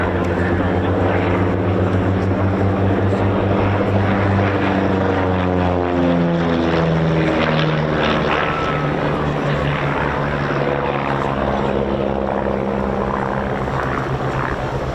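A de Havilland Chipmunk propeller aircraft flies a display at the RAF Cosford air show, its loud, steady engine drone holding for the whole stretch with shifting harmonic tones as it passes.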